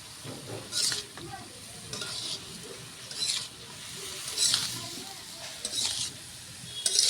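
Steady sizzling of food frying in a pan, with bursts of hissing and stirring scrapes recurring every second or so, no talking.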